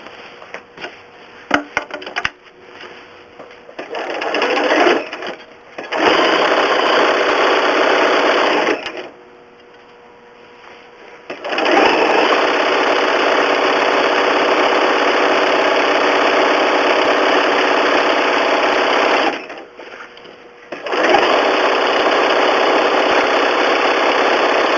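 A sewing machine runs satin stitch over a moose applique, its motor buzzing loud and close in long continuous runs separated by a few brief pauses.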